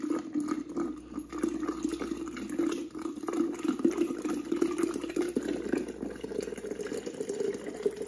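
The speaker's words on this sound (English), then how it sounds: "Fill it with water." Water pours steadily into a jar, a continuous gurgling splash that rises slightly in tone as it fills, with faint clinks around it.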